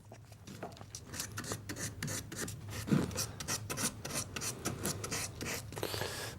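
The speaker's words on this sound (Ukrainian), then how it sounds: "Проходжу спочатку грубшою наждачкою, це 150-ка." Carved wood is hand-sanded with coarse 150-grit sandpaper, giving close, rhythmic rasping strokes that rise and fall in quick succession without any voices.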